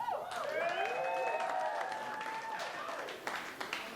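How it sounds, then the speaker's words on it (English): An audience at a live stand-up comedy show breaks into steady applause that fills the room, with a voice rising over the clapping before it thins toward the end. "Round of applause."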